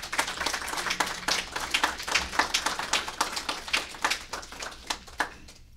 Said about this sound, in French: nous pouvons lui donner une chaude main d'applaudissements pour